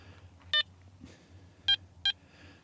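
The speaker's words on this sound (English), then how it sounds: "I got a beep right here" A metal detector sweeping a lake beach at a campsite gives three short electronic beeps, one alone and then a close pair, clear over a quiet low hum.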